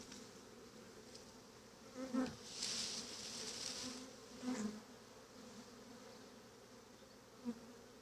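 A swarm of honeybees being collected into a hat and skep buzzes in a continuous low drone, with a few closer bees swelling louder as they pass, and no talking.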